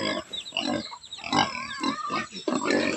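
Pigs grunting on a farm, a series of close, throaty grunts and snorts in an irregular rhythm, several overlapping, fairly loud and with no talk.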